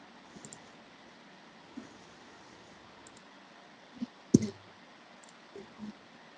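Several soft computer mouse clicks, sparse and irregular against a quiet background hiss, with one sharper click near the middle, while installing Photoshop software.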